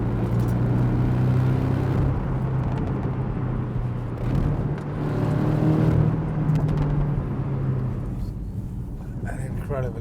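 A Porsche 718 GTS with a 2.5 engine and PDK gearbox drones steadily from the cabin, with a low engine hum that swells slightly as revs change around pedal-shift gear changes, sustained throughout.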